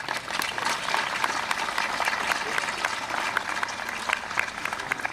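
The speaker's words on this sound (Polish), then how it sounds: "Brawa dla Zuzanny Skławskiej." An audience claps after a performer's turn at a concert celebrating a book launch in Choryń, a dense, steady patter of many hands, moderately distant and fairly quiet, sustained throughout.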